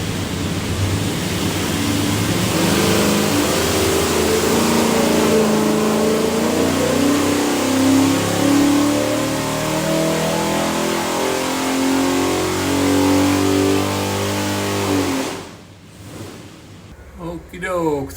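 A 582 cubic inch big block Chevy built for an airboat, with a hydraulic roller cam, roars under load on an engine dyno, holding a loud sustained pull with rising tone for about fifteen seconds before cutting off abruptly.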